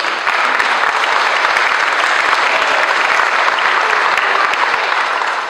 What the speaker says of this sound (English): So a round of applause for all those folks.